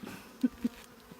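Honey bees work inside a hive, a soft close buzzing hum with a couple of brief louder passes as individual bees fly near.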